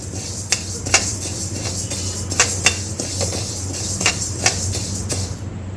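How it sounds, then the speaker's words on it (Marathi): Flax seeds roasting in a pan over low heat, stirred with a metal spoon that taps and scrapes in light, regular strokes over a constant steady hiss, nearby with no voices. "याला छान परतून घ्यायचं आहे बिलकुल गॅस मंद ठेवायची आहे"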